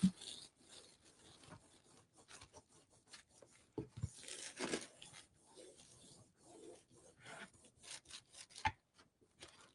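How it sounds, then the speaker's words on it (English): Sandpaper rubs off a small overhanging edge of decoupage napkin on a Christmas lantern, a faint, uneven series of short scratchy strokes with brief pauses between them. "I'll have to sand off that one little edge there."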